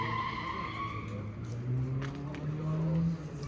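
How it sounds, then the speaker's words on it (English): A loud, rowdy modified race car with a JZ Supra engine swap and dry sump drones steadily near the listener, its low tone rising in pitch with a tire-squeal edge, faint talk beneath. "Very rowdy. The loudest car on set by far."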